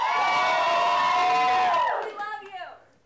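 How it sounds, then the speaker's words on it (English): A studio audience at a comedy show cheers and whoops loudly for Grayson, a dense wall of shouting and screams that swells, then breaks off into scattered yells and fading calls. "Cheer for Grayson."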